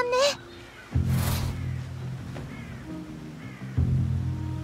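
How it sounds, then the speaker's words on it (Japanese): Bird calls from the stealth video game Shadow Tactics: Blades of the Shogun, a few short chirping, warbling cries set over a steady low game ambience, with occasional muffled voices. "鳥の声。"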